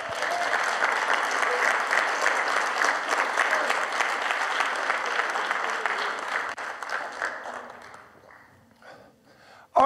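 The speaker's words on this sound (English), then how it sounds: "We need a clap offer for Jesus." Sustained applause from a church congregation, steady for several seconds before tapering off and fading near the end.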